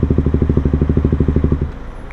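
A KTM motorcycle with a dying clutch, its single-cylinder engine idling in a fast, loud, regular thumping pulse right up close, then dropping away to a quieter rumble near the end.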